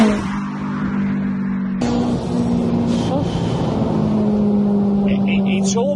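A turbocharged Honda Civic Type R EP3 accelerating hard from low speed, engine note climbing through the revs with a gear change, loud and close under heavy wind and road noise, with someone talking over it.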